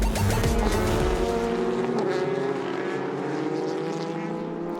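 The number 8 Toyota hybrid endurance prototype passes the number 6 Team LNT Ginetta at the 2019 4 Hours of Shanghai, a loud close engine whine sweeping down in pitch as the car goes by, then receding into a steady drone.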